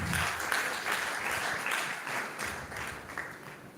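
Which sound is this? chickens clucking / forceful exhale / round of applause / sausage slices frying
round of applause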